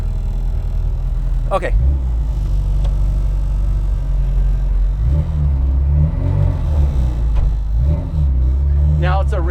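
A supercharged Mini Cooper with a 1310cc engine and straight-cut gears idles with a steady loud rumble, blipping up and revving a few times, while someone talks briefly over it.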